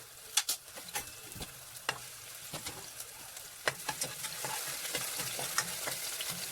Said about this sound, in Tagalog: Dahil mainit na ang ating mantika, ilalagay na natin ang ating garlic.